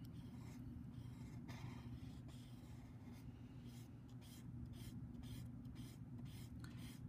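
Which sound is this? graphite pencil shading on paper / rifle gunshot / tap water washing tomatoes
graphite pencil shading on paper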